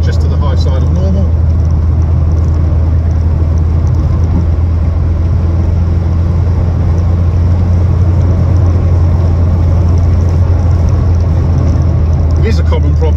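A 1983 VW Golf GTI with the 1.8 engine runs steadily, giving a continuous low, loud drone that holds an even pitch throughout with no break.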